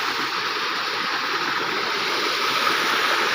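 River water rushes steadily in the Sutlej, a broad, constant roar of flowing current heard close and loud without any voices.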